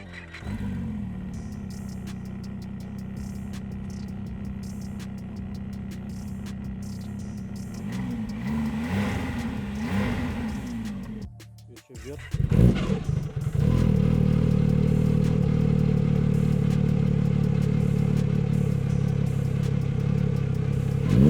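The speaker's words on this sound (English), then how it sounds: "now it's time to fire up these snowmobiles" Snowmobile engines, a Chinese copy of the Ski-Doo Expedition, idle with a steady drone, rev up, cut out briefly, then restart into a louder, sustained roar close by.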